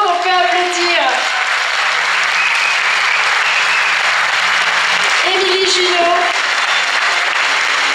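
A crowd at a Miss Côte d'Or beauty pageant applauds the Miss Sympathie winner with loud, steady, sustained clapping throughout, while a presenter's voice is heard over it at the start and again near the end.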